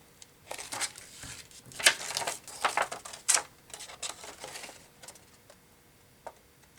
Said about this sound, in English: I'm just going to continue to cut.